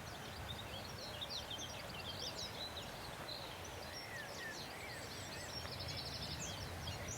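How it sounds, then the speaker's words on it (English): Many birds singing at the Ouse Washes wetland in Cambridgeshire, a faint, dense chorus of chirps and warbles over soft outdoor ambience, steady throughout. "as you can hear, an absolutely plethora of bird song out there"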